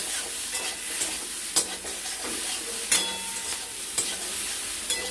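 Small fish curry with potato, pointed gourd and green banana sizzles in a pan while being stirred, sharp utensil scrapes and clinks landing every second or so over a constant frying hiss.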